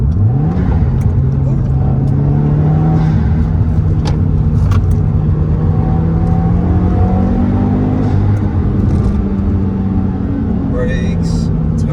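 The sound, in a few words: Subaru WRX turbo engine accelerating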